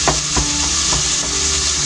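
Ground beef hamburger frying in a lightly oiled pan as its fat renders out, giving a steady close sizzle with a few soft scrapes of stirring, with no talking.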